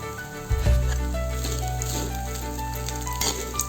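Pulihora ingredients fry in a kadai with a steady, close sizzle, a louder burst of crackling near the start, then an even hiss with light popping throughout.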